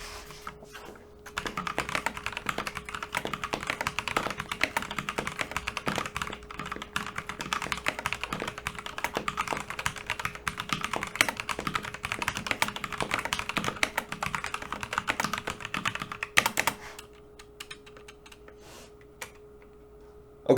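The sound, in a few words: typing on Havit KB487L keyboard with red switches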